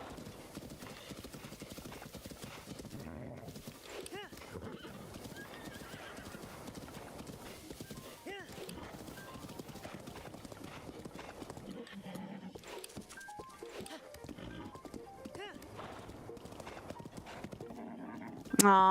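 Hooves clip-clop steadily throughout as a horse gallops in a Zelda randomizer game, with a whinny near the end and a voice talking underneath.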